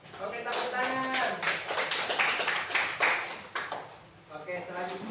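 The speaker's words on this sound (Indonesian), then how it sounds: "Oke, tepuk tangan." A class applauds after a group's presentation during a microteaching session, a scattered patter of claps mixed with voices talking and calling out, close and moderately loud.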